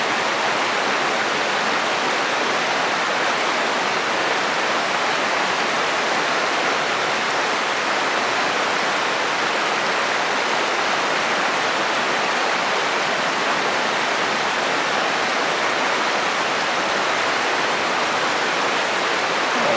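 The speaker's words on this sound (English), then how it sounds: "Here's the line of rapids." Steady loud rush of water from a line of river rapids pouring over rocks, a dense, unbroken roar filling the whole stretch with no voices.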